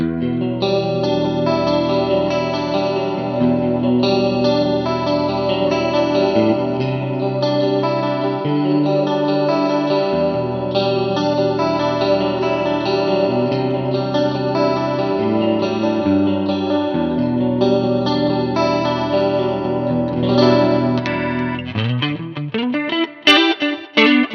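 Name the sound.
electric guitar clean tone with chorus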